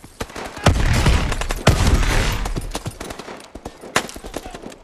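Rapid bursts of AK-12 automatic gunfire in Call of Duty Advanced Warfare, loud and close, with sharp repeated cracks separated by brief pauses.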